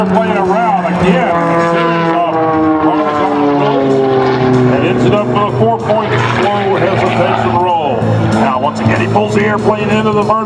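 An aerobatic airplane engine roars loud as it climbs at an air show, its pitch rising and falling in sweeping tones while a commentator talks continuously over it.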